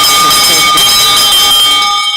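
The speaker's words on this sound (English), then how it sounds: "Ringing the bell." A bell rings at a morning devotion service, a sustained ringing tone that holds steady and loud before fading out at the end, with voices in the background.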